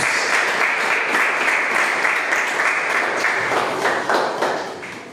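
Loud, sustained applause from a large congregation, a dense wash of clapping that holds steady before fading slightly at the end.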